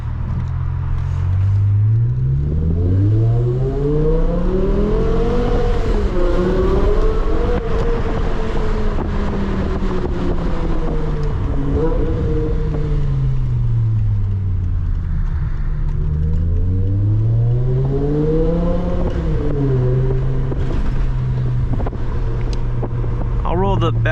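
A BMW E60 M5 drives at night through a downtown city, its engine and exhaust rising and falling steadily through gear changes, heard continuously from inside the cabin.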